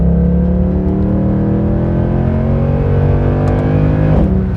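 Naturally aspirated Mercedes C63 AMG Black Series engine revs hard, loud and steady, pitch climbing smoothly through the gears toward over 7,000 RPM, heard close with no talking over it.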